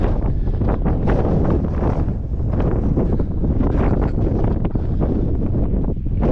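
Strong desert wind gusts steadily across the microphone at the Egyptian pyramids of Unas and Teti, a loud continuous rumbling roar with buffeting and no voices.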